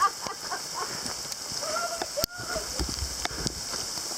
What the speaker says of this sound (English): And the rain is picking up.